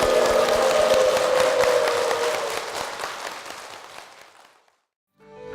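A church congregation applauds in praise, a dense sustained clapping that swells at first and gradually thins and fades out, followed by a brief pause and the start of another sound.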